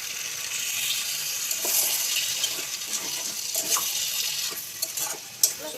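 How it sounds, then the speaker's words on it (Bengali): Soybean curry being cooked in a pan, with steady sizzling and stirring throughout and a splash of water going in; close and moderately loud, with no talking. "কিছুক্ষণ কষানোর পরে আমি একটু জল দিয়ে দেব।"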